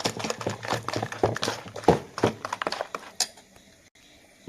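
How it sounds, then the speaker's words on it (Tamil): A spoon stirs corn flour batter with palm jaggery in a metal vessel, making a busy series of close scraping clinks and knocks that stop abruptly, leaving near quiet. "சேர்த்து நல்லா கிண்டி விட்டுருங்க"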